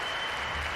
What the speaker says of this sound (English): I love the cheering.